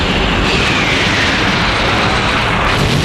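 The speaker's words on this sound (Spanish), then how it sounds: "vino el bombardeo aéreo" A dense, loud roar of rumbling aerial bombing explosions and aircraft-like noise fills the air without a break, heavy and continuous, with no voices, in Chile.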